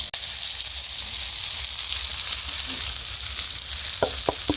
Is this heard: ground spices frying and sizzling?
yes